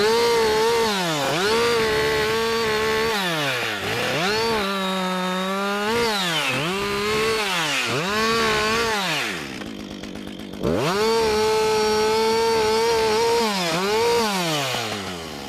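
A chainsaw cuts through a tree trunk from the bottom, its loud engine revving and bogging in repeated surges as the chain bites into the wood, with a brief drop to idle midway before cutting resumes.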